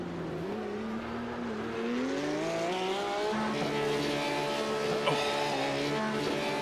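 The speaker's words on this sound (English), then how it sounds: "the painful sound of a car just bouncing off of the rev limiter" A Porsche race car engine in an esports race simulation screams at high revs, its pitch climbing and then stuttering against the rev limiter, with a steady roaring tone throughout.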